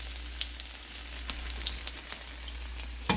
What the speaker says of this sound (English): and then we're going to saute first our ginger